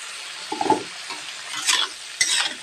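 Spices frying in a pan with salt and turmeric, a soft sizzle punctuated by a few bursts of stirring and scraping, close by, with no speech.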